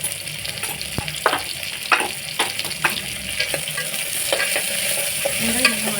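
Tomatoes and onions fry in a pan for a Chettinad mutton gravy, a steady close sizzle running throughout with repeated scraping stirs of a spoon against the metal.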